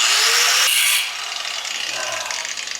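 Hacksaw working on a stuck rear suspension bolt on a Triumph TR7: a loud rasping stroke up close, then softer uneven scraping strokes.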